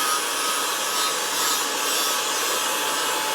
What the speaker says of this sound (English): Just enough to get down to the metal and get the paint off.